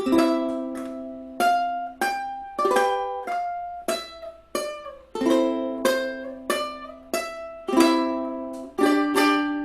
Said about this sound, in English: the combination of chords and melody sounds like this